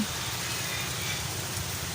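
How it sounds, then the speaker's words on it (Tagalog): Steady rain falls continuously on a cassava field, a dense even hiss of drops with no gaps and no voices. "Wala yung tumila guys yung ulan."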